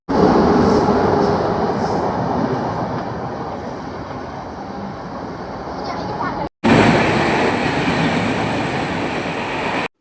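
A train arriving at a station, a loud continuous rumble of rolling wagons and wheels close by, with a brief cut midway and no clear talk over it.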